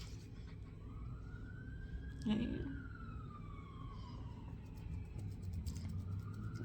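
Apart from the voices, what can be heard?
sirens outside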